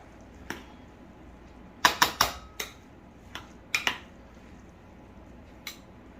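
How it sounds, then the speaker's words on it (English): Butter mixed into rice pilaf with a utensil, a handful of sharp clinks and taps against the pot, some clustered, others isolated, fairly quiet and close with no talking. "I'm just going to melt that in there and mix it around before I transfer it into my bowl"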